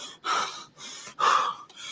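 Heavy, ragged breathing from a man spent after back-to-back CrossFit competition workouts: loud gasping inhales alternating with rough exhales in a steady rhythm, close up and with no talking.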